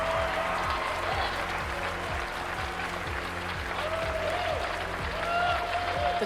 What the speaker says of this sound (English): The crowd really starting to build and get behind them now.